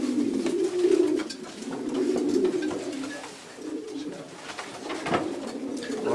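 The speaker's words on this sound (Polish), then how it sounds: "Świetny jest ten gołąb." A pigeon cooing inside a pigeon loft, low repeated throaty coos close by, rising and falling over several seconds, with other faint bird sounds in the background.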